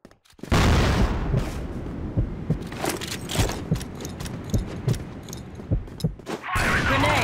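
A grenade blast in the shooter CrossFire West erupts as a loud, sudden boom followed by a dense roll of debris and clattering gunfire, with several sharp impacts scattered through the rest of the burst.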